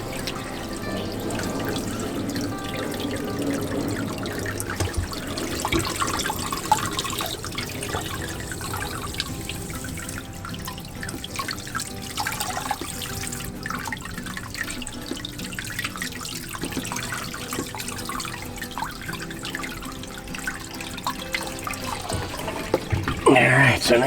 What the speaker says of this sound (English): you can see the water starting to drip faster. You can probably hear it dribbling.